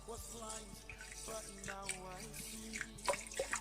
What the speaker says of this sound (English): And then after you pour water.